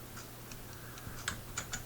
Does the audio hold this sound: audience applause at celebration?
no